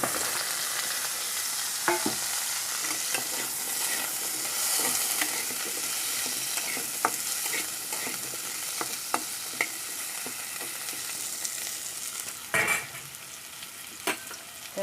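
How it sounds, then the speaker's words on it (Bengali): Potatoes frying in oil left over from frying pointed gourd, a continuous close sizzle with scattered crackles and occasional stirring knocks, steady throughout without speech. "বেঁচে থাকা তেলটার মধ্যে আমি আলুগুলিকে এখন ভেজে নেব"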